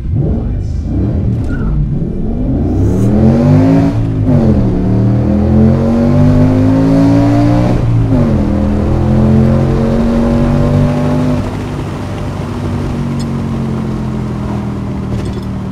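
Loud, close revving of a C5 Corvette with a V10 swap and manual gearbox: the engine climbs through several rising pulls with dips between them, then settles to a rumbling idle.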